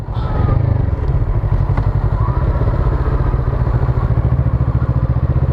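A Kawasaki Z650RS motorcycle engine lugs along in sixth gear at about 50, giving a steady, close, low pulsing drone with a faint mechanical clatter and no speech.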